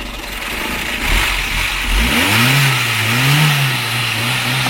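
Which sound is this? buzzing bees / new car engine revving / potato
new car engine revving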